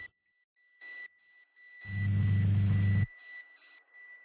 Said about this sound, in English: the beep sound becomes the main melody